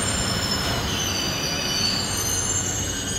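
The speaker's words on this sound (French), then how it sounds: "Aujourd'hui, on s'essaye à prendre le métro à Mexico." Mexico City metro train running steadily with continuous rumbling wheel noise and squealing, a loud, sustained roar heard from inside or close to the carriage, with no speech.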